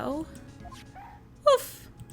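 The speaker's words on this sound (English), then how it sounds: "A cute dog." A small dog in the Phoenix Wright: Ace Attorney video game gives a single short, high yip partway through, set among quieter game sounds and voices speaking nearby.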